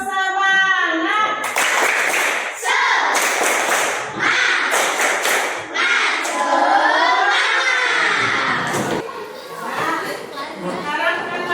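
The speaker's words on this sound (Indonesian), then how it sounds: "Sekali lagi ya. Tepuk semangat." A classroom of children repeats the rhythmic 'tepuk semangat' clapping chant, bursts of clapping mixed with loud shouted chanting and chatter throughout, the teacher's voice opening the round.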